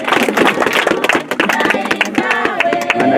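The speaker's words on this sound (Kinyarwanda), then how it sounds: "Amashyi menshi." Dense, rapid applause from a crowd at a youth council gathering in Bujumbura, Burundi, a close and loud patter of many hands clapping, with voices mixed in.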